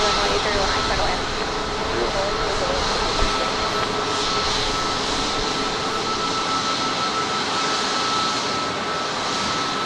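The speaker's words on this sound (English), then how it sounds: "Gerard wants to know if was that a go-around or a flyby." A jet airliner roars during a go-around at Dallas Love Field, a loud sustained engine rumble that fills the whole stretch, with a voice faintly present.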